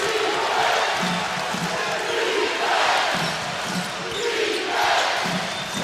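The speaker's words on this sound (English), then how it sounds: "Crowd chants" Basketball crowd in an arena chanting at a Hawaii game, a loud, steady roar that swells in rhythmic pulses about once a second, with no clear speech on top.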